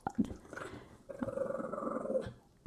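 A dog growls in two low, rumbling stretches, the second longer and steadier, heard close against a quiet indoor background.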